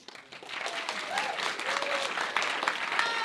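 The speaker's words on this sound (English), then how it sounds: "Audience, give us a cheer." A live radio show audience cheering and applauding, a quick swell of clapping with whoops and shouted voices rising over a few seconds.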